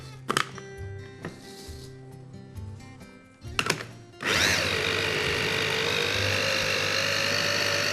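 Chickpea patty ingredients are loaded into a food processor with a few clicks and knocks. The motor then starts and settles into a loud, steady whirring grind.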